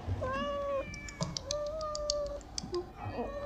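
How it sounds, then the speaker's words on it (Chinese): A kitten meows in a series of high, drawn-out cries, several in a row close by, with faint clicks and light tapping underneath and no talking. "你看这只小猫可爱吗？"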